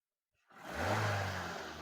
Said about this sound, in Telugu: బండి ఇంజిన్ కూడా రేస్ చేసి చూసానన్నమాట